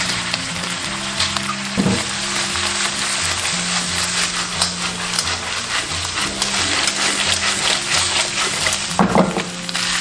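Crayfish hitting hot oil with spices and bean paste in a wok, a steady close sizzle and frying hiss throughout with stirring clatter and a couple of louder bursts, under a looping background music track.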